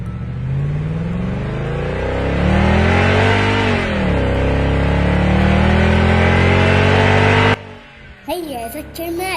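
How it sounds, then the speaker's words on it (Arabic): A sports car engine revs hard with a rising and falling roar, loud and close, ending in a sharp shift of tone and a brief burst of other sound near the end. "نعم، إنها سيارة رياضية."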